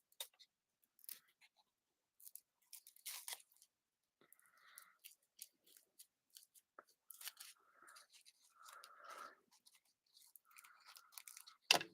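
Scissors snip ribbon tails while trimming a handmade card, a series of short, light cuts and quiet paper-and-ribbon handling sounds spread through the stretch, close up with no talking.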